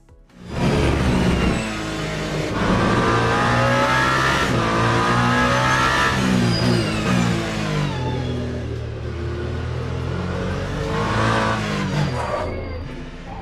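Toyota GR010 Hybrid hypercar racing a lap of Circuit of the Americas in the Le Mans Ultimate sim, its engine loud and close, rising and falling through gear changes with sustained revving throughout.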